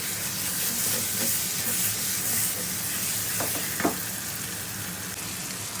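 Lamb mince frying with julienned ginger in a pan, a steady close sizzle and hiss with occasional scraping stir strokes as it is mixed.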